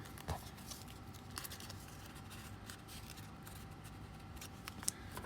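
Scissors snipping scrap paper for a junk journal, a few quiet close-up cuts with light clicks, including a sharp snip near the start and another near the end, over faint background hiss with no talking.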